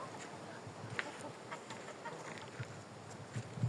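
Faint, scattered clucks from chickens sound at a distance over a steady background hum, with a few slightly louder calls near the end.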